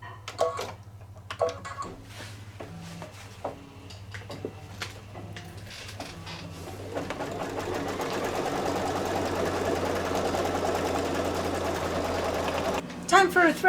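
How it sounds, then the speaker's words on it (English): An embroidery sewing machine stitches all-over quilting, its steady mechanical hum and rapid needle rhythm building from scattered clicks into a continuous, fairly loud run, with a brief burst of louder clatter at the end. "Now it's going to do the all-over quilting."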